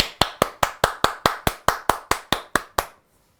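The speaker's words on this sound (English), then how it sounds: "we'll do a great big clap" A single person gives a run of twelve sharp, evenly spaced hand claps, loud and close, to test how Labradoodle puppies react, ending in brief silence.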